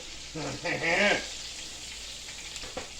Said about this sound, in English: these fish been frying about 3 minutes on the non-skin side